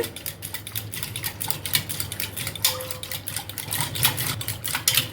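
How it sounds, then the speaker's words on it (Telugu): Curd with salt being whisked in a bowl, a rapid steady clatter of the whisk against the bowl, close and continuous, with no talk. "పెరుగుని ఇలా చిలుక్కోవాలండి"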